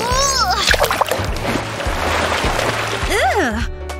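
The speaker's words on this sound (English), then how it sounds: "That was a bit of a splash." Water splashes in a toilet bowl, a wet burst followed by a lingering watery churn, while people speak and a voice rises over it.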